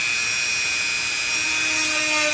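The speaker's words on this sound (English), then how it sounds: "make the first cut a plunge cut into the board" A rotary tool running at a moderate speed setting plunge-cuts straight down into a wooden board, producing a brief, steady high-pitched whine with a faint gritty edge and no talking.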